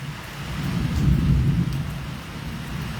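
Steady rain pours down in rural Gujarat, India, with a deep, rolling rumble of thunder swelling in the middle, continuous and fairly loud.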